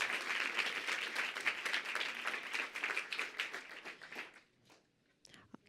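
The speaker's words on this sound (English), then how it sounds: "can we get one more round of applause that's a little bit louder for all of those amazing women-led startups?" Audience applause for women-led startups at a startup competition in New York City, dense clapping that thins out and fades over about four seconds, leaving a few scattered claps and small noises at the end.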